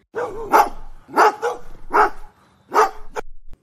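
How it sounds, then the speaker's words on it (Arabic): A dog barks four or five times, loud and close, the barks in uneven bursts with short pauses between them. "والكلب هوهو عليه"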